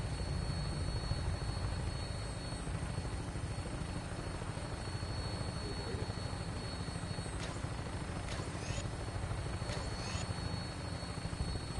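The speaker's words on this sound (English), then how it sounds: "Never thought I'd actually be flying inside one of these helicopters in any Fallout game." A helicopter flying in the video game Fallout 4, heard from inside the cabin as a steady loud rotor and engine drone with a few faint high tones near the end.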